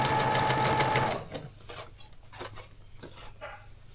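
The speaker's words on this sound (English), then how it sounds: "So I'm just gonna keep folding and sewing as" A sewing machine stitching scrunchie fabric runs steadily and close for about a second, then stops, leaving faint handling clatter and light taps.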